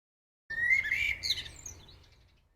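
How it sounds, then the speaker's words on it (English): A recorded bird sings a bright chirping phrase that starts abruptly after a short silence, rises and warbles for about a second, then trails off into a fading tail. No one speaks. "Let's do another one with birdsong"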